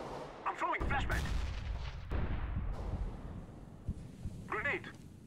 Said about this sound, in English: Throwing flashbang. Flashbang. Grenade. I'm throwing flashbang.